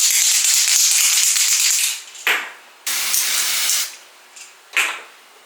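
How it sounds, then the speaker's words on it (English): Hairspray for black hair hisses from a can while hair is styled with a curling wand: a long close burst of about two seconds, a quick puff, another second-long spray, then a final short puff. "get my spray and spray this"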